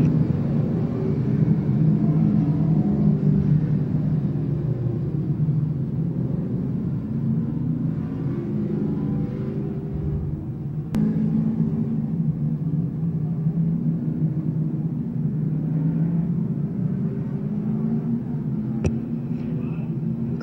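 Pro stock dirt race cars thunder around a speedway at a King of Dirt event, a continuous distant engine roar that swells and fades as the pack passes, with a few sharp clicks.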